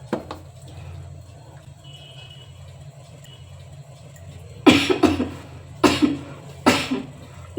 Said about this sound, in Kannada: ನೀನು ಕೆಮ್ಮು